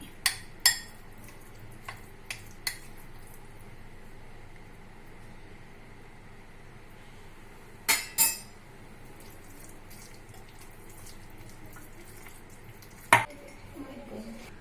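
Boneless chicken pieces are being mixed into a spice masala, giving soft wet stirring and squelching under a quiet background, with a few sharp clinks of a utensil against the bowl scattered throughout.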